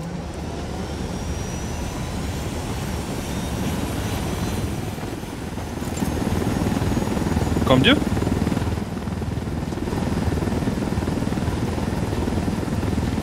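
A steady helicopter rotor drone in Tom Clancy's Ghost Recon Wildlands thrums throughout, loud and continuous, while a voice briefly speaks over it partway through.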